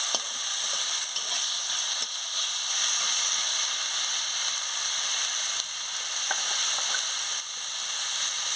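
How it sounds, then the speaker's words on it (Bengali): Pumpkin leaf paste, kumro pata bata, sizzles steadily as it is stirred in a pan, with a continuous close hiss of frying and faint scrapes now and then. "খুলে নিয়ে ভালো করে এটাকে নাড়িয়ে নিচ্ছি"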